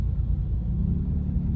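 Heavy road traffic in Manila near Monumento makes a steady, dense low rumble of car engines, continuous and fairly loud with no talking.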